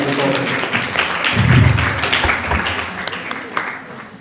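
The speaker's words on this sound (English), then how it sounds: "please, a round of applause for urban agriculture" A panel-show audience applauds at a workshop, a steady wash of clapping that swells and then thins out, with voices audible under it.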